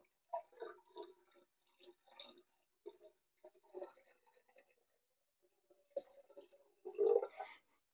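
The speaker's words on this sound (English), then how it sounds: "So the sweet tea goes in." Sweet tea made from water, tea bags and sugar is poured into a vessel for home-brewed kombucha, giving faint scattered trickles and drips that end in a louder, brief splashing pour.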